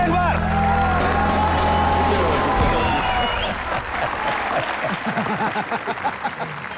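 Studio audience applause on a comedy TV show as a guest is welcomed, starting under music and a brief swell of cheering, then breaking into loud rhythmic clapping with whoops.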